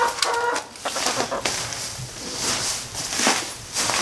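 Muscovy ducks and chickens clucking and squawking together in a barn shed on a bitterly cold, windy day, with busy overlapping calls close by.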